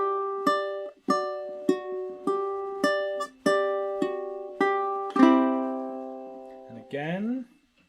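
Slow riff on ukulele, a series of individually plucked notes and chords evenly spaced and ringing clearly, ending with a sustained strum and a final sliding note.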